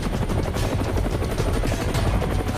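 An Indian Air Force helicopter in the Siachen region, its rotor pounding in a fast, steady beat, loud and close with no voices.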